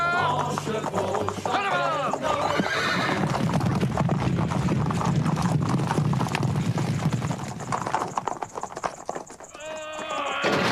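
Horses whinny loudly near the start and again at the end, while hooves clip-clop continuously in the middle amid the busy scene of a Lucky Luke cartoon convoy in an Apache canyon.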